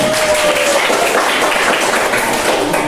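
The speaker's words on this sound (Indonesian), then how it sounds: "Tepuk tangan untuk kelompok." Classroom applause for a student group, a dense burst of many hands clapping steadily at close range for a few seconds.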